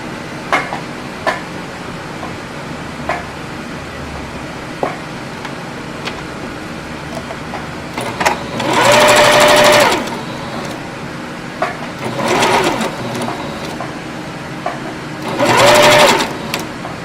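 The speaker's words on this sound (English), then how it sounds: "So from here to here, I'll do my edge stitching. You do not back stitch." Sewing machine edge stitching fabric without backstitching, heard in three short bursts of steady whirring separated by quiet gaps and small handling clicks, close and fairly loud.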